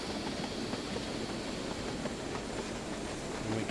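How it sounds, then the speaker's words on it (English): An LMS 3F Jinty steam locomotive braking on a line in western Scotland, heard as a steady, quiet rumble and hiss of rolling wheels with no distinct beats and no voices. "We'll start braking now."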